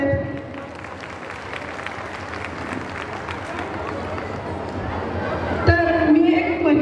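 Applause from a crowd at a Gautami Patil lavani dance show in Pandharpur: steady, dense clapping that swells slightly toward the end, with a brief sharper burst near the close.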